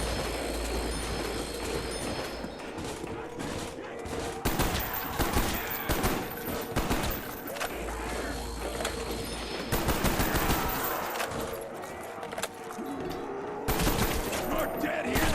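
Rapid gunfire in Call of Duty Black Ops Zombies on Kino der Toten, with continuous dense bursts of automatic shots and game effects filling the whole stretch, loud and unbroken.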